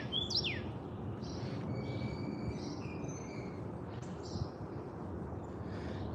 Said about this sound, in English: hear all these birds?